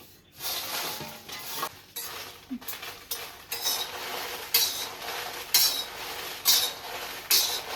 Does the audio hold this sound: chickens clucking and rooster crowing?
no